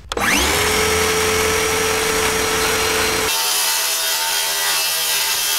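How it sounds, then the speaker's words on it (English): A power saw cuts window openings into a wooden van wall panel during a bus conversion, a loud steady whining buzz that spins up at once, holds for about three seconds, then changes pitch as the blade finishes. "so today we are cutting out our inside window openings"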